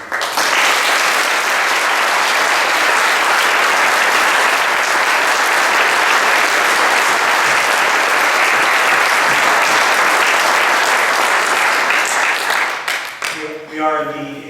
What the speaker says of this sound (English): I wanted for all of us to applaud all of our veterans and servicemen and women who are here